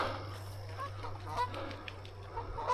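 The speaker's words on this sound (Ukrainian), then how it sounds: "А гуси собі тихесенько, спокійнесенько сидять і не звертають на нас" A flock of two to three hundred geese sitting in Canada honk faintly in the distance, scattered calls over a low steady hum and background noise.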